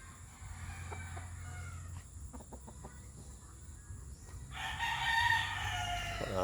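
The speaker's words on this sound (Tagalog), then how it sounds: "mga Tagalog lang tong mga manok ko guys" Native Tagalog chickens mixed with Texas stock cluck in a farmyard while a rooster crows loudly and clearly near the end, over quiet background noise.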